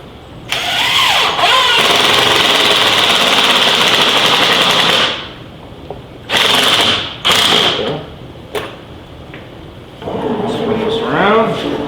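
A power drill drives fine-thread self-tapping screws into oak in several whirring bursts, one long run and then shorter ones with rising and falling pitch, loud and close.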